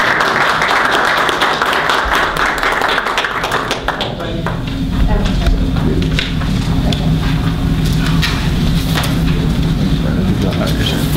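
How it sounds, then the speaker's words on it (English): An audience gives steady applause after a university team's presentation at a business ethics case competition, the clapping continuing throughout as people talk over it. "we want to thank you and give you a round of applause"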